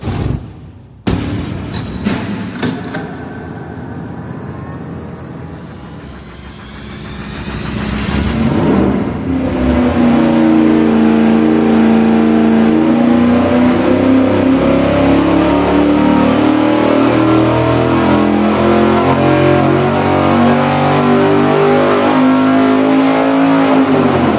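A V8 engine on a dyno starts with a few blips, then climbs to full throttle and holds a loud, steady roar with a rising, sustained tone to the end.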